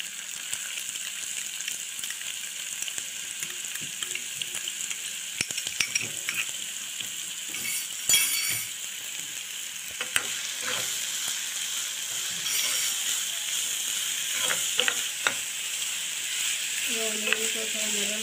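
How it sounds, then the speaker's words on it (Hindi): Two chopped onions dropped into hot oil in a pan, a continuous sizzle with scattered crackles and stirring clatter, and a faint voice briefly near the end. "तेल गरम हो गया है। अब इसमें 2 ऑनियन चॉप करके डालेंगे।"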